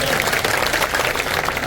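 An audience at an outdoor political rally in a village claps steadily and densely throughout, a continuous patter of many hands with faint voices mixed in.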